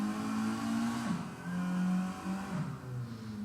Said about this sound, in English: See, it sounds like a real car